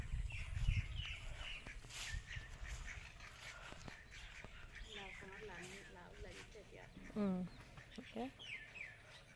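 Ducks and chickens on a small backyard poultry farm, quacking and chirping calls scattered through steady background noise, with a person talking over them.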